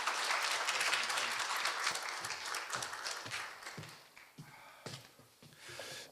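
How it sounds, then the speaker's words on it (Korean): Audience applause at a Korea University campus lecture welcoming the speaker, a dense wash of clapping that is loud at first and thins out gradually into scattered claps by the end. "모두 큰 박수 부탁드리겠습니다"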